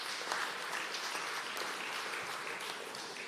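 Steady applause from an audience at an annual general meeting, a continuous even wash of many hands clapping at moderate loudness without a break.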